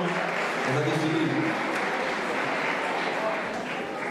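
Audience applauding at a Miss Saône-et-Loire 2014 pageant, a dense steady wash of clapping with voices faintly mixed in.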